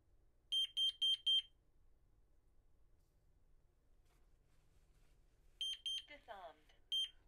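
Interlogix Simon XT alarm panel sounding its exit delay: two bursts of evenly spaced, high-pitched electronic beeps, four in the first group and several more later, with a brief voice heard between them.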